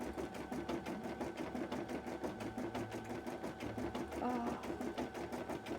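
A sewing machine stitches cosplay fabric in a steady, rapid mechanical run with a close, continuous whir and rhythmic needle pulses, while a brief voice sounds once.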